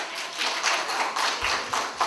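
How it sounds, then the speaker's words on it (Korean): Audience at a beauty academy lecture bursting into applause, a short lively patter of many hands clapping close by. "와, 박수!"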